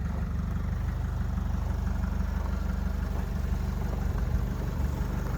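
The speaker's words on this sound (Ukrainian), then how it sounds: "думаю, чути по роботі мотору" A 2013 Opel Vivaro 2.0 engine idles steadily with a low, rumbling hum and faint vibration throughout, no voices.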